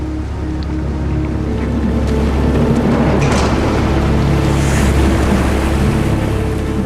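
Loud, continuous roar of rough ocean surf near rocks, with heavy wind gusting and water churning steadily throughout and no voices.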